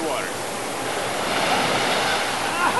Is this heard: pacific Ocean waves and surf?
yes